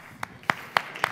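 A few separate hand claps ring out at a conference stage event on low-cost airlines in Africa, four sharp claps spaced about a quarter second apart, fairly close and moderately loud.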